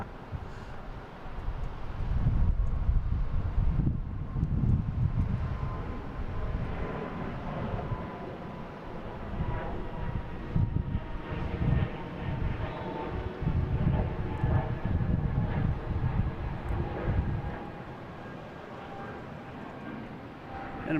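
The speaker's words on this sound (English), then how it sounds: "And American Airlines coming in from LaGuardia." An American Airlines airliner arrives at Boston Logan from LaGuardia: a steady, broad engine roar builds and holds for most of the clip, mixed with wind noise, then eases off near the end.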